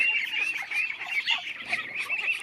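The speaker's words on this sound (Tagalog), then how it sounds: "Yung area na to is exclusive lamang to sa mga itik tsaka mga pato" Ducks on a provincial native farm honk and quack in their shared enclosure, a busy, close chorus of overlapping calls that runs steadily throughout.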